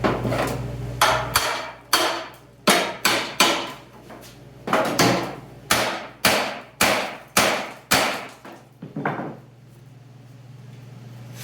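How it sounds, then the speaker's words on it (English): Repeated hammer blows knocking out a rear door brace on a car body during door skin work, a dozen or so loud metallic whacks in uneven bursts over a low hum, then quiet. "and then we'll blast out the brace there"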